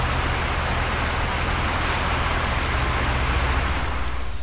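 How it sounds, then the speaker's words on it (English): Steady, heavy rain falls continuously at close range, a dense even hiss with no breaks and no voices. "But this rain is rubbish, absolutely rubbish."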